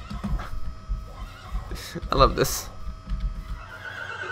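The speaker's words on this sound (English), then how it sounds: "Here's a horse. Get the horse!" A horse in the video game Minecraft lets out a short whinny over game background sound, while a person talks and reacts nearby.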